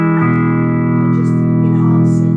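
An electric guitar with the reverb effect set halfway holds a sustained, loud chord alone, its ringing tail blooming into a washy reverberant haze.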